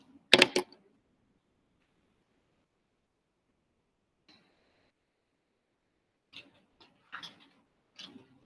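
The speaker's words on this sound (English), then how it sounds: "Try typing that into your calculator." Sparse, light plastic key taps: one quick burst, a long quiet gap, then several soft clicks in a loose, irregular rhythm, close and faint.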